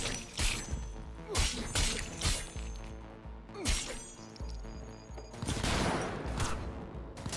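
Repeated gunshots and impacts in Cyberpunk 2077 during a combat training fight, loud sharp bursts over a continuous game soundscape, with no talking.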